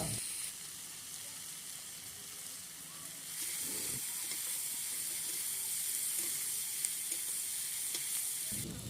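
Fish curry with salt and chilli powder is stirred in a hot pan, giving a steady, close hiss of sizzling oil that grows slightly louder partway through, with brief scraping of the spoon at the start and end.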